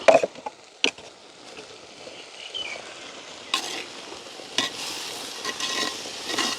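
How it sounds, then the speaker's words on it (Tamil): Curry powder being stirred into hot oil in a pan for a village-style curry, a soft steady sizzle broken by sharp scrapes and taps of the spoon against the pan, close up with no talking. "எண்ணெயில் வடிவாக கலந்து விடுவோம்"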